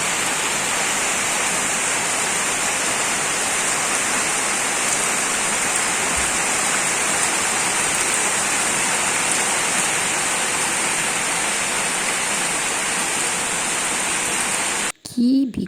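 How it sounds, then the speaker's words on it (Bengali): Heavy rain pours down in a steady, dense roar that holds at an even level throughout, then cuts off abruptly near the end with a brief burst of other sound. "কী বিকট আওয়াজ শব্দ, মানে সে বৃষ্টির।"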